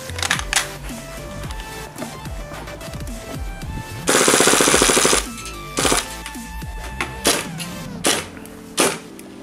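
A KWA MP7 airsoft gas blowback gun fires one loud full-auto burst of about a second, rapid and close, among clicks and handling noise from the mechanism before and after, with no speech.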